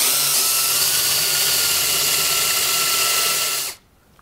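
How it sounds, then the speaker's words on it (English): A power drill whines loudly and steadily while boring a hole in metal, then cuts off abruptly near the end, leaving faint room noise. "now when you start drilling your hole, your bit won't be dancing all over your metal"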